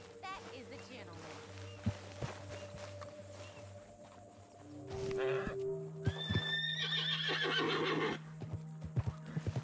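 Horse in Red Dead Redemption 2 whinnying loudly with clip-clop hooves nearby, a voice speaking over the animal sounds.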